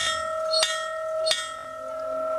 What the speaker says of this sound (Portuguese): Tocamos o sino da estação.